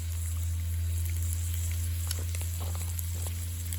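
Golden oyster mushrooms frying in oil, a steady, close crackle over a strong low electrical hum, with a few sharper pops and small stirring sounds toward the end.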